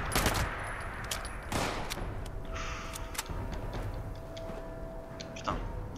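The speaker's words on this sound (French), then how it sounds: "On va tester notre mitraillette" Submachine gun fire in Fallout 76, sharp close bursts and single shots popping irregularly over a background hum, loud and punchy with short gaps between volleys.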